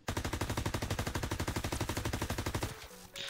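MP40 submachine gun firing in a video game, a long steady rapid burst of evenly spaced loud shots that stops abruptly, followed by a brief quieter clatter.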